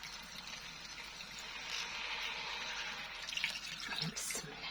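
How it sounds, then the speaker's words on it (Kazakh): Water is poured into a pan of frying meat cutlets, a soft, fairly faint running splash that grows slightly stronger toward the end. "бетке ғана су құямын"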